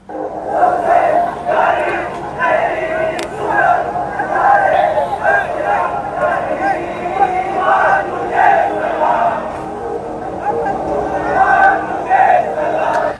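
A large protest crowd on a march to parliament, a dense roar of many voices chanting and shouting together in steady rising waves, heard close and loud.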